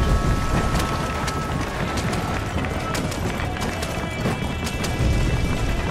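Rapid clip-clop of galloping horse hooves in the video game Red Dead Redemption runs steadily through a dense, noisy background, continuous and fairly loud throughout.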